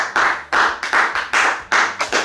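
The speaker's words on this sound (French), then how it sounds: "On va acclamer d'abord." Guests at a wedding celebration clap together in a short burst of loud, close, rhythmic handclaps, about seven strong beats in just over two seconds.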